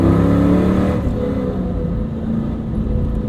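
A 1998 Chevrolet Camaro Z28 engine revs loud and close, a deep, rumbling drone whose pitch climbs and then drops as the gears shift.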